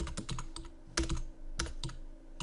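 Typing on a computer keyboard during spreadsheet work produces quick irregular bursts of key clicks up close, with a heavier keystroke now and then. No one speaks.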